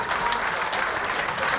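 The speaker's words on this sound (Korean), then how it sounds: "뜨거운 박수를 국민의당 관계자들께 부탁드리겠습니다" Warm, dense applause from local residents at a political party leadership meeting in Seongju, a thick continuous wash of many hands clapping at once.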